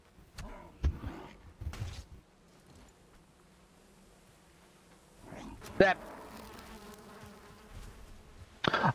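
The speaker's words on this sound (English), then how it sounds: "Oh, I got stung by my own bees?" Bees kept by the player in the game Valheim buzz faintly in the background, with louder bursts of impact and rustling noise, and someone speaks briefly.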